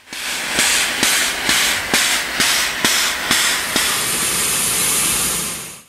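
The Dixiana, a narrow gauge steam locomotive at Roaring Camp, chuffs loudly as it arrives, with a regular series of sharp exhaust beats that give way to a steady roar of escaping steam.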